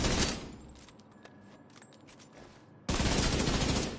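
Assault rifle fire in The Division 2 video game: a loud burst of rapid automatic shots, a quieter stretch with scattered pops and ringing tones, then another dense close burst at the end.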